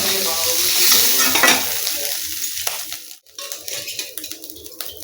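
Giant freshwater prawns sizzle and fry in mustard oil in a pan, loud crackling that is stirred and scraped, then quieter sputtering after a brief pause.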